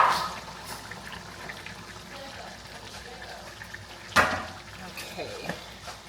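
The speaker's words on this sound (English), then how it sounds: "So I'm gonna go ahead and add the potatoes in here." Rinsed potato chunks drop into a pot of curry goat with a wet splash and plop, followed by soft, faint liquid movement and a few small knocks.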